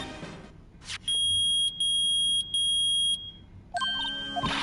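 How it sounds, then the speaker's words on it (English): A metal detector beeps in the Phoenix Wright: Ace Attorney video game, sounding a loud sustained electronic tone three times in a row, followed by a quicker series of chiming beeps. "it's beeping. The metal detector found something."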